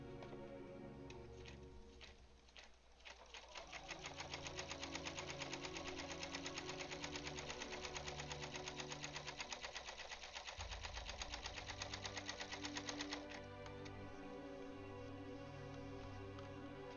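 Machine quilting on a Seahawks-themed quilt: a steady, fast mechanical needle chatter runs for most of the stretch, with a low motor hum under it, fairly quiet and without speech.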